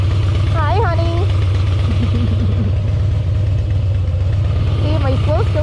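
A motorcycle engine idles steadily and loud throughout, with clattering mechanical texture, while a person talks over it and birds chirp briefly in the background.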